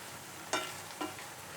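Chicken cooks without oil in a pan over a high flame while it releases a lot of water. A steady, soft hiss runs throughout, and two brief sizzling bursts rise out of it as the pieces are stirred.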